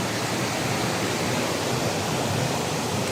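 Heavy water rushes and roars without a break during Typhoon Uwan in Mindoro, a dense, steady torrent that stays loud and close throughout.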